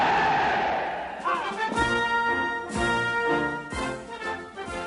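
Soldiers cheering in a large group: loud crowd shouts rise in rhythmic bursts of hurrahs, sounding like a close, massed chorus.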